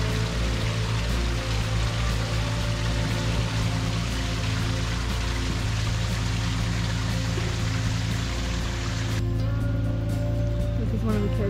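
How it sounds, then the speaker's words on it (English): A farm creek flowing steadily, a continuous loud rushing wash of water with constant texture, heard close by and alone, with a mechanical hum underneath and a slight change in tone near the end. "This creek is amazing."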